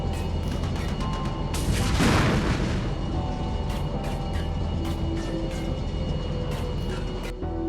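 Armored Brigade 2 battle ambience as a Soviet company advances along a route under small arms fire, with scattered sharp cracks and a heavy boom over a steady rumble of engines.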